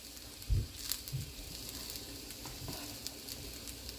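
Vegetable fried rice made with day-old cooked rice sizzles in a pan on the stove while a utensil stirs it, with scraping knocks and crackling spatters rising over a steady background fry.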